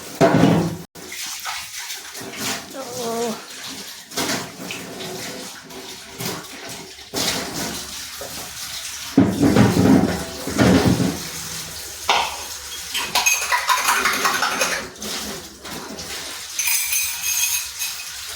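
Dishes and pots washed under a running kitchen tap: a strong stream of water splashing continuously, punctuated by knocks and clatters of cookware, loud and close throughout.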